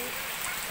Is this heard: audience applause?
no